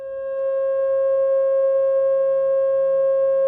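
A steady 540 Hz pure tone assigned to a pentagon, sounding a harmonic fifth against other geometric tones, fades in during the first half second and then holds level and loud on its own.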